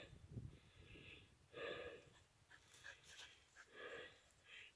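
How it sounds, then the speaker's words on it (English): A dog stuck up in a tree whimpers and pants in soft, repeated bursts, faint and close, with short snorting breaths between the whines. "You silly dog."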